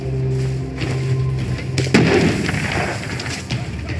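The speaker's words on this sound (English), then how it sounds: "They're bombing us again!" Bombing explosions in the video game We Happy Few: a loud booming blast midway, followed by rumbling debris and a smaller thud, after a stretch of tonal background sound.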